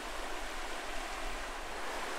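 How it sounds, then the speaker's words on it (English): A brook flows steadily beside a roadside campsite in north central New Brunswick, a close, continuous broadband rush of water with no voices or traffic audible. "the sound of the brook"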